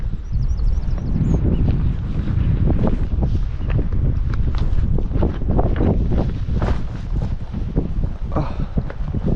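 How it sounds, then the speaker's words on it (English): Strong wind buffets a microphone outdoors on a rocky stretch of the Isles of Scilly, a continuous loud roaring rumble with gusty surges and no voices. "Probably try and get out of the wind"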